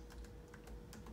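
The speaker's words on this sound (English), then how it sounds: "Now I'm gonna write in Mrs. Pope's email." Soft keystrokes on a Chromebook keyboard while an email address is entered, a few quick irregular taps close by in a quiet room.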